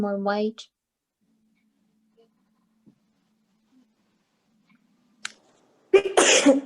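A single sharp sneeze bursts out near the end after a long quiet stretch, preceded by brief speech and a few faint small clicks.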